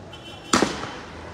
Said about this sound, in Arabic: إطلاق الألعاب النارية باتجاه جنود الاحتلال